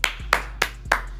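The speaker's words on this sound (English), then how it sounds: "Let's clap it up." Hands clap in a quick run of four sharp, separate claps, spaced roughly evenly and close up, during a basketball card pack opening.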